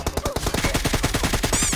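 Rapid automatic gunfire rattles in PUBG Mobile, a dense stream of loud, closely spaced shots fired in quick bursts for the whole stretch, near and punchy with no pauses.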